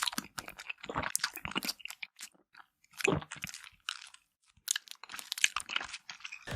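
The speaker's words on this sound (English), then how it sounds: "Bite off the top of the bottle, then drink the liquid and chew the bottle like gum." Someone bites and chews NIK-L-NIPS wax bottle candy up close, with irregular crunching, crinkling and tearing bursts broken by short quiet gaps and no talk.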